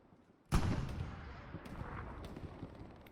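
A grenade explodes on the Utah Beach map during a competitive multiplayer match. It hits as one sudden, loud, near blast, then fades into a rumbling tail with faint distant pops.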